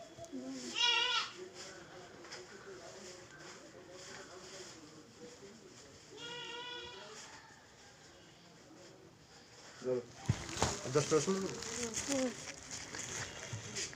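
A goat bleats a few times at a moderate distance, once near the start and again midway, amid soft roadside ambience, with people talking in between and louder rustling toward the end.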